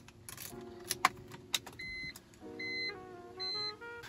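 Car keys jangle briefly inside a parked BMW with new white gauges, a few sharp metallic clinks followed by electronic dashboard chimes and beeps.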